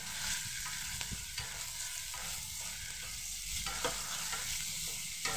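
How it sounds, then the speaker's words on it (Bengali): Two cut onions frying in hot oil, an even, close crackling sizzle that holds steady with occasional stirring scrapes, nobody talking. "তেলটা গরম হয়ে গেছে, এর মধ্যে দিয়ে দেব পেঁয়াজ। এটা আমি 2টো পেঁয়াজকে কেটেছি, দিয়ে পেঁয়াজটাকে আমি ভালোভাবে একটু ভেজে নেব।"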